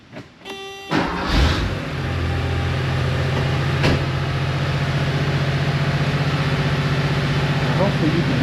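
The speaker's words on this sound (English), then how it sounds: "So we're going to start the vehicle." Car engine cranking briefly after a chime, catching and settling into a steady loud idle during a battery tester check, with a person talking over the running engine.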